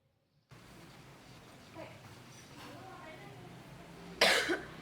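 A single sharp cough bursts out near the end after quieter rustling and faint throat sounds, close and fairly loud against a hushed background.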